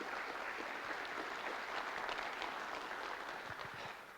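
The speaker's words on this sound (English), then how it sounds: "One more round of applause for these guys" An audience at a weather safety presentation gives a round of applause, steady dense clapping from many hands that holds and then starts to taper near the end.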